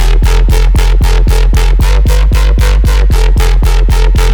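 A drum and bass synth bass patch plays a melody with both oscillators detuned a seventh, a loud, buzzy, sustained tone pulsing in rapid even steps over a deep constant low end, with no talk.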